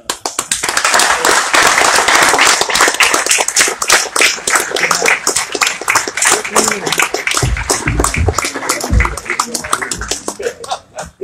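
An audience claps loudly and steadily at a symposium, a sustained burst of applause that fades toward the end, with a voice briefly heard near the close.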